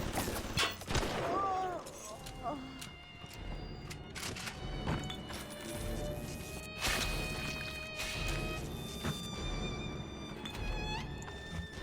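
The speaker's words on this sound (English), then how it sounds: "Appreciate my turret just filling me with fucking rounds." A turret firing rounds in the video game BioShock: scattered sharp shots and impact bangs over a buzzing, tonal game soundscape, with a voice talking over parts of it.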